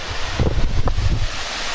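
Steady rushing roar of a waterfall beside a remote off-road campsite, broad and continuous, with gusty low wind buffeting on the microphone and no talking.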